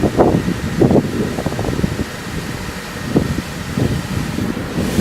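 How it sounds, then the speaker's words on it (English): Mercedes W140 climate control blower motor running flat out, a steady broadband whoosh of fan air with low rumbling surges, continuous and fairly close throughout. "As soon as I plugged it in, the motor's on full blast"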